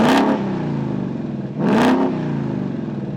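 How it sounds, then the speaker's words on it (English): A Ford Mustang GT V8 gives two sharp throttle blips from idle, each a quick rising roar that falls back to a steady, burbling idle, close and loud with no talking. "Do you want to fire this one up?"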